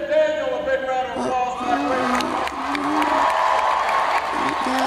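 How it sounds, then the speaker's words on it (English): A studio audience bursts into applause and cheering, a loud rising wash of clapping with whoops that swells after a moment and continues under a speaking voice. "Please give Daniel a big round of"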